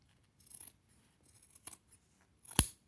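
Scissors snipping fabric while sewing a baby diaper bag: a few soft, scattered blade closes, then one sharp, louder crisp cut near the end, close up with no talking.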